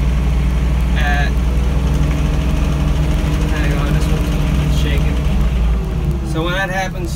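A John Deere tractor engine runs steadily while mowing, a loud, close, low droning rumble throughout, with brief voices breaking through now and then.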